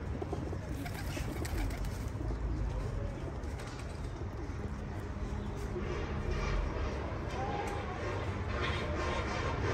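A high-flying racing pigeon coos softly and repeatedly amid steady background noise, its low throaty calls close to the microphone.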